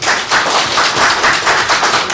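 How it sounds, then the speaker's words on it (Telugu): Audience clapping at a seminar on Dr B R Ambedkar's writings and speeches, steady dense applause from many hands sustained throughout, fairly loud and without talk over it. "ఒకసారి చప్పట్లు కొట్టండి."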